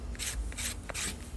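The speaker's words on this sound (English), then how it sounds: "give them a bit of a sanding just to make sure that there's" Sandpaper rasps over small air-dry clay pieces outdoors, in three short, steady strokes with brief pauses between them, close and fairly soft.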